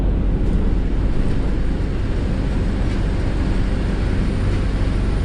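Dense traffic roar of many motorcycles on a crowded road during a busy morning commute, a continuous loud rumble with wind buffeting the microphone and no clear individual engine passes.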